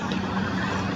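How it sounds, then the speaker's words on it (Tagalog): A cargo ship's engine runs while the ship turns, giving a continuous low, droning hum that stays steady and moderately loud over a brief moment, with no talking. "parang rinig ko pa yung andar ng cargo ship"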